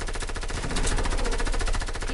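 Rapid, continuous submachine-gun fire in a video game, loud and close, with dense overlapping shots across the whole stretch and no pauses.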